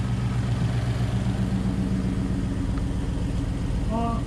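A Ford Coyote V8 idles in a 1999 SVT Cobra, a loud, steady low rumble with an even pulsing throb that settles from fast idle, heard close up throughout.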